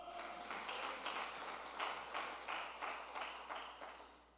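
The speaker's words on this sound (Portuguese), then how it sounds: "As palmas para o Senhor." A church congregation claps in rhythm, a faint, even run of hand claps at a steady beat that eases off toward the end, with no speech.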